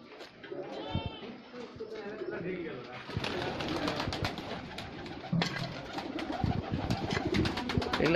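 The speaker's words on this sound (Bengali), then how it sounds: "এগুলো কি জাতের কবুতর?" Pigeons coo at a fancy pigeon and goat farm, soft repeated calls heard close by, with goats bleating and people talking over them.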